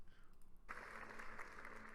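Women in an audience at a Jordan Peterson talk break into applause, a sudden burst of clapping that starts after a quiet moment and continues steadily, moderately distant.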